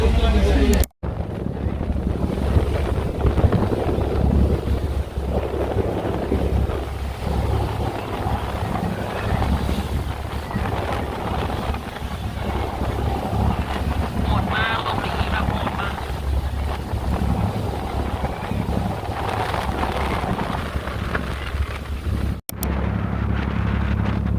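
A passenger boat crossing toward Phuket in stormy monsoon wind gives a continuous low engine rumble and heavy wind buffeting on the microphone, loud and unbroken, with brief dropouts near the start and end.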